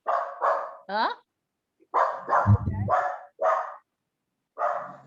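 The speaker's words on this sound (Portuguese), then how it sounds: "a cachorrinha ficou latindo aqui" A small female dog barks repeatedly in short, sharp yaps spaced through the clip, close by, while a person speaks briefly in between.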